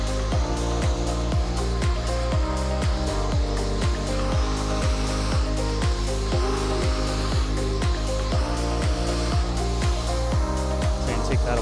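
A handheld blow dryer runs steadily at a salon hair-cutting session, a constant loud whir with rhythmic snipping or clicking ticks on top and no talking.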